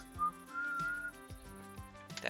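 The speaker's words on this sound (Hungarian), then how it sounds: "Tudom, hogy fütyülnek." People whistle short, thin high notes and a longer sustained tone over a soft musical background, with no talking.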